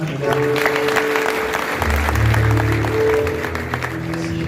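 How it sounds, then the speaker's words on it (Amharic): A church congregation bursts into sustained applause, a dense wash of clapping filling the hall for several seconds, with voices mixed in beneath it. "ለእግዚአብሔር ክብር የረምታም ጭብጨባም"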